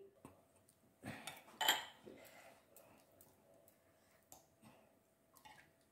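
Whisking creamy leche flan mixture in a bowl, with utensil clinks and scraping against the bowl in a few short bursts, fairly faint, no talk.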